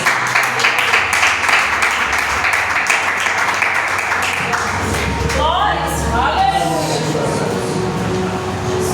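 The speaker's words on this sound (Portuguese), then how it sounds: "Desocupa suas mãos e aplauda Jesus." A church congregation claps in a dense, busy stretch of applause, loud and steady for several seconds, with voices mixed in and a rumbling low undertone joining toward the end.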